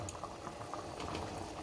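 Rice cooking in a pot gives a faint, steady bubbling simmer, low and continuous throughout.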